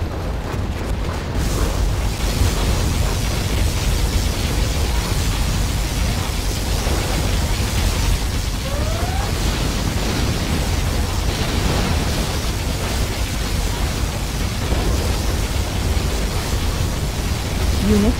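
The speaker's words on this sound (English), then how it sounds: "Particle cannon has been activated." A particle cannon blast in the real-time strategy game Command & Conquer: Generals Zero Hour, heard as a loud, sustained roaring wash of noise that persists steadily for many seconds.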